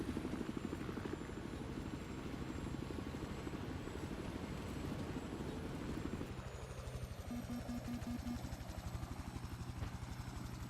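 Helicopter flying in Battlefield 4, a steady loud rotor chop with a dense engine roar that continues throughout. Partway through, the rotor beat becomes more distinct and regular. No one speaks.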